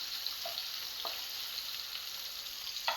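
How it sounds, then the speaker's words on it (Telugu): Tomato pieces fry over a medium flame with a soft, even sizzle and a few faint utensil taps, fairly quiet and close, with no voices. "ఇందులోకి టొమాటో ముక్కలు వేద్దాం. మీడియం ఫ్లేమ్లో ఫ్రై చేసుకుందాం."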